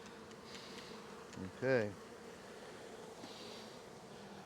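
Honeybee swarm during an evening swarm catch: a faint, steady background buzz of many bees with one brief nearby drone, and a person says a single word.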